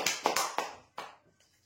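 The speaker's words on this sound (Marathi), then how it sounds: "जोरदार टाळ्या होत्या यांच्यासाठी" Scattered hand clapping from a small gathering at a weekly prize draw, a few quick claps bunching together and then thinning into isolated taps that fade out within a couple of seconds.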